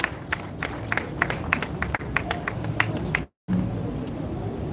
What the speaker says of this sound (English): shall we appreciate him with warm applause